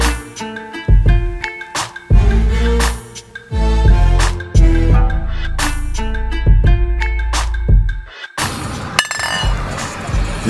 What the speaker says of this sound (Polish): To był dźwięk butelek turlających się po samochodzie.